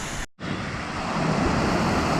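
The Glen Etive waterfall in the Scottish Highlands gives a steady, dense roar of rushing water, broken by one brief dropout near the start, with no voices.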